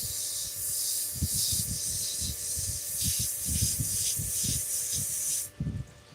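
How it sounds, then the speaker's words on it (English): Abrasive paper rubs against a workpiece spinning on a wood lathe run at full speed, sanding through progressively finer grits; a steady close hiss with rhythmic scraping pulses, stopping abruptly near the end. "we're gonna get this sanded up gradually to a higher grit"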